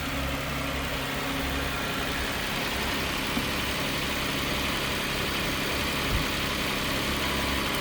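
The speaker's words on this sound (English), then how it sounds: "I want to go back to the engine bay and see how it runs when it's cold" A car engine idling shortly after a cold start, heard from the engine bay as a steady low rumble with an even, unbroken drone and no voices.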